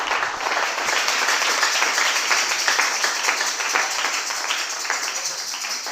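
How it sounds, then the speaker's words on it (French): A church congregation bursts into sustained applause for the Lord, a dense, steady wash of many hands clapping at close range that holds evenly from start to finish, with no voices standing out. "Acclame pour le Seigneur."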